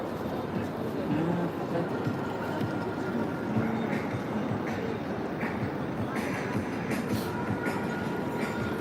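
Rail cars rumble steadily through a train station, with a continuous rolling clatter and hiss that stays close and fairly even for the whole stretch. Faint station bustle sits underneath.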